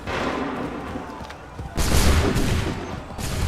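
A gunfire volley follows an open fire order in Assassin's Creed 3, booming musket shots crackling out after a murmur of voices, then a louder burst of overlapping reports that keeps going.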